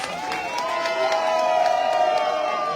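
An outdoor crowd at a political rally in Kenya's Murang'a area cheers and shouts together in a loud, continuous swell, with scattered claps mixed in.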